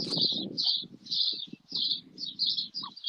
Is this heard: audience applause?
no